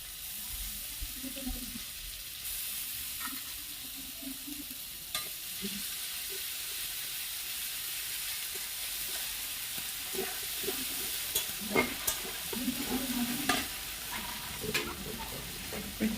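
Cumin paste fries and is stirred in a pan with taro leaves and chickpeas, a steady low sizzle broken by scraping stirs and small clicks, quiet and close with no talk.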